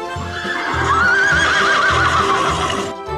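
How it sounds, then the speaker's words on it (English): A horse neighs close up, a long, wavering whinny over soft snorting and shuffling. "Horse."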